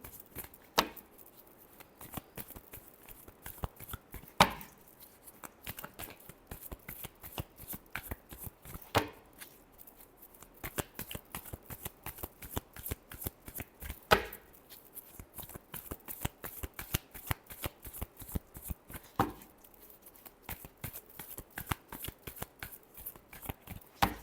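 Tarot cards shuffled by hand in a long, steady run of quick riffling flutters, with occasional louder slaps and pauses as the deck is squared, close and clear without talk.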